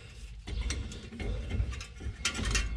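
A big clamp is wound in by hand to push back the brake caliper piston on a 2011 BMW X1, making quiet, close, irregular ratcheting clicks and creaks in short bursts.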